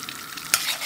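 Paprika is stirred into a frying pan, giving a close, continuous sizzle with one sharp scrape of the utensil partway through.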